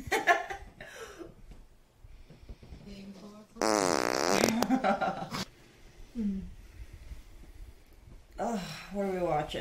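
Two women on a bed talk and laugh as a long, loud, buzzing fart sounds for about two seconds midway, close and distinct, with chatter and chuckling before and after it.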